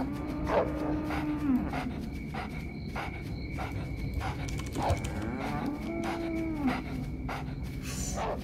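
Cows mooing in a field at night: several drawn-out moos rise and fall, near and moderately loud, over a quiet background of crickets and insects.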